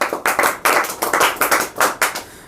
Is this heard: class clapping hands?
yes